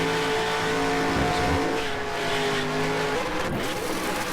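A race car in the NR2003 racing game runs with a blown gearbox, giving a steady high engine whine with tire squeal and skidding noise, loud and continuous and without voices.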